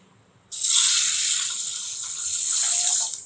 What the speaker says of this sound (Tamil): இதில் ஒரு 2 கப்பு தண்ணி சேர்த்துடலாம்.